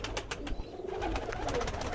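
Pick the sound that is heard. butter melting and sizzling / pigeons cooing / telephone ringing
pigeons cooing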